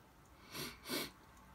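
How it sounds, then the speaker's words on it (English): A single quiet sneeze, a short intake followed by a soft breathy burst, in an otherwise hushed room. "I'm going to sneeze again."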